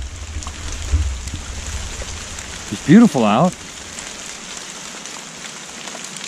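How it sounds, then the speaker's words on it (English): Steady rain patters on surfaces at a chilly campsite being packed up, a soft constant hiss throughout, briefly overlaid by someone speaking a short phrase partway through. "it is raining"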